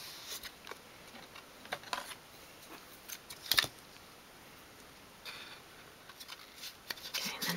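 Scissors snip along the top edge of fabric or card for a 1/12th scale dolls house sofa, several quiet, crisp cuts in a loose irregular rhythm with one louder snip in the middle, no voices.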